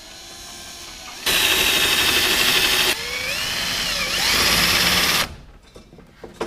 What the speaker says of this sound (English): So let Andy drill into my bumper.